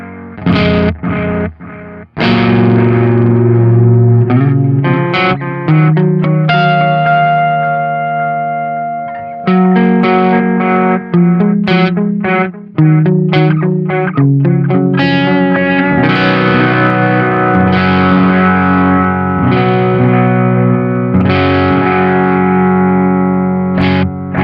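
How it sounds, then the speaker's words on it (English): Electric guitar played through a Sonicake Echo Rain digital delay pedal voiced for a darker, analog-style tone, chords and single notes ringing loud and continuous with repeating echoes and some distortion, no voices. "the Echo Rain is a digital delay pedal, but they've voiced it to sound more like an analog, kind of like a darker sound"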